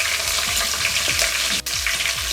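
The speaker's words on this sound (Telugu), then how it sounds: "దీంట్లో మనం పచ్చిమిరపకాయలు కూడా వేసుకుందాం. ఇవి 1 నిమిషం పాటు వేయించుకుందాం" Green chillies frying in hot oil for mutton keema: a loud, bright crackling sizzle with repeated low scraping stirs and one sharp pop, heard close with no speech.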